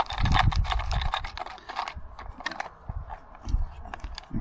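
A plastic solar panel mount is screwed by hand onto an outdoor wireless security camera, giving close, irregular clicks, rattles and scraping handling noises with no talking.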